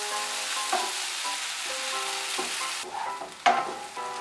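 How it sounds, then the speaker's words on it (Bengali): Potatoes, beans and onion flowers fry over a high flame, a steady close sizzle broken by a few sharp scraping stirs, one louder clatter near the end. "এখন আমি আঁচটা বাড়িয়ে দিয়ে ভালো করে ভেজে নেব।"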